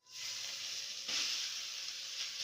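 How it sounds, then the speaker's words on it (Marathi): Grated carrot sizzles in ghee in a wok, a soft, steady hiss that swells briefly midway as it is moved about. "सर्वप्रथम कढईमध्ये तूप घालूया, त्यानंतर किसलेलं गाजर घालूया।"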